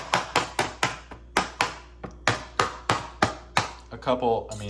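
A meal package's plastic film is stabbed repeatedly, giving about a dozen sharp, close punctures in an uneven rhythm, with no talk.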